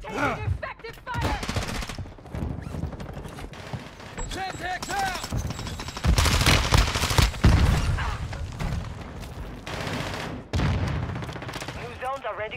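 Gunfire in Call of Duty: Warzone 2.0 comes in repeated bursts of rapid shots and heavy volleys, near and loud, with short pauses between them. Radio-style voice callouts play over the shooting.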